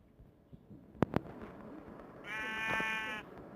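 A brown sheep in Minecraft gives a single drawn-out bleat near the end, preceded by a couple of sharp clicks over soft background game noise.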